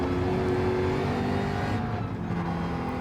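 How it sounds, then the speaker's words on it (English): A McLaren race car in Gran Turismo 7 roars steadily at high revs around the Dragon Trail Gardens track, loud and continuous, with a brief dip in tone partway through as it shifts or lifts. "you can just hear that engine roaring on the McLaren now"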